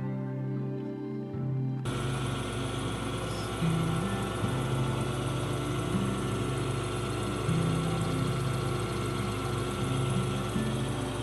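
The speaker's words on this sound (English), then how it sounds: "This lap is noisy." A faceting lap pre-polishing a synthetic ruby with 8,000 diamond starts up abruptly and runs as a loud, steady mechanical whir and hum, with faint shifting tones in the drone and no talking.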